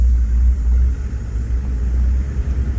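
Old cruiser vehicle driving, a deep steady low-frequency engine and road rumble heard from inside, loud and continuous for a few seconds.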